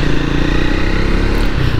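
A Triumph Speed 400 motorcycle's high-compression engine roars close by under throttle, loud and steady with a rough, throbbing rumble throughout.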